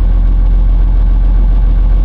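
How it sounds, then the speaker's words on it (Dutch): Steady low diesel drone of a boat's engine running at idle on a vessel with solar panels, continuous and close without variation, no talking over it. "Zet de motor eens uit, Fred, nu."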